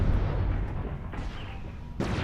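Heavy weapon fire from a battle mech in MechWarrior Online, a loud booming blast with a dense low rumble that hangs on, then a second sharp burst near the end.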